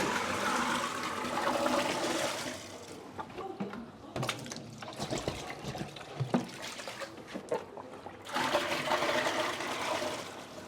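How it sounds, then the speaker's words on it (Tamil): Water pours and trickles into a cement fish tank set up for imported guppies, a steady rush at first that breaks into irregular splashes and dribbles before flowing strongly again, fairly faint. "ஓகே இப்போ வந்து ஃபுல்லாக தண்ணி வந்து ஆட் பண்ணியாச்சு"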